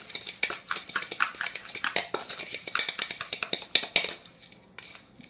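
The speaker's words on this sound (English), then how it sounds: "Mix this one up. Make sure there's no lumps." A spoon or whisk clinks and scrapes against a bowl while homemade seasoning salt is stirred to break up lumps, giving quick irregular metallic taps and scrapes close by, with a pause near the end.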